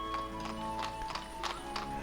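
Horses in the village-building game Ostriv clip-clop with steady, overlapping hoof strikes, a soft whinny rising now and then over a constant low ambient hum.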